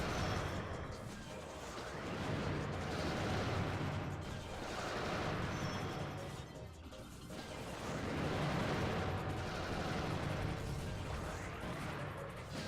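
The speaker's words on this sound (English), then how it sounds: "that's the Geotrop bomb that was just fired. That big purple explosion" Geotrop bomb launched and bursting into a big purple explosion in the video game Custom Robo, heard as dense, rumbling blasts and mechanical clatter swelling in waves over about thirteen seconds, with no talking.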